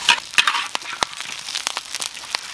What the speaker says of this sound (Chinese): 搁入鸭肉，然后啊给它不停的煸炒